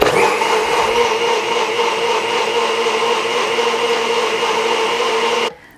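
A blender whirs steadily, blending tahini dressing with water and date paste, a loud continuous motor drone with no talk that cuts off abruptly near the end.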